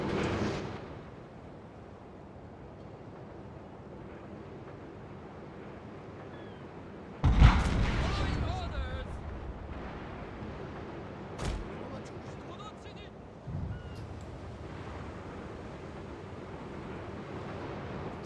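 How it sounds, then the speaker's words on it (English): Coastal battery artillery fires in the Total War: Shogun 2 naval battle, a loud sudden boom followed by a fading rumble, then two smaller thuds a few seconds apart over steady low background noise. "So those coastal batteries are firing, but they're not on target yet."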